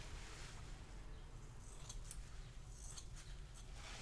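Scissors snip through hair at the sides of a haircut in a series of soft, quick close cuts over a steady background hiss, with the clearest snips toward the end.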